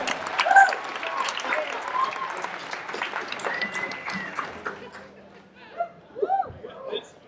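A stage audience applauds after a performance on the JoCo Cruise, a sustained wash of clapping and crowd noise that thins out toward the end, with a few voices and whoops mixed in.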